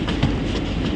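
A Delhi Metro train rumbles through Rajiv Chowk station, a loud, steady wash of wheel and track noise with a faint rhythmic clatter, no voices.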